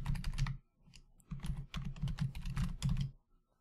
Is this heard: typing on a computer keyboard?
yes